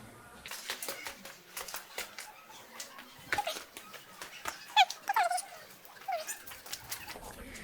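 A small dog whimpers and yips in short, high bursts amid scattered clicks and shuffling, fairly close.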